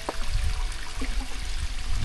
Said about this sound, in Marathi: झरे धबधबे वाहतात आहेत. थोडा पाणी भरायला आपण थांबलो आहे.